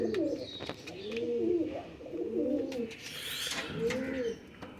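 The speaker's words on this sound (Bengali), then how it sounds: "দেখুন, সব পায়রা সুস্থ রয়েছে এখন।" Pet pigeons kept at home coo close by in repeated soft, throaty rolling calls with short pauses between them, alongside faint rustling and a light knock.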